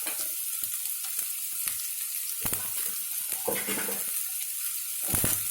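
Onions sizzle steadily in a hot pan for chicken fry, a continuous crackling fry close by, broken by occasional clinks and scrapes of stirring.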